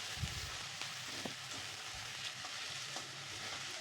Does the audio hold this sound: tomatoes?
yes